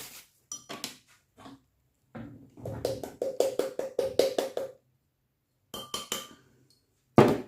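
Spoon clinking and scraping against a bowl while batter with chocolate chips is stirred, a quick run of bright rhythmic taps in the middle, then a few scattered knocks and silence, close and clear.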